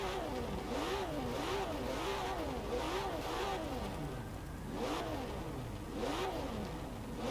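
A Porsche 911 (992) engine in Forza Horizon 4 revs repeatedly, climbing and dropping in quick rhythmic sweeps, a rasping mechanical tone that stays loud and constant throughout.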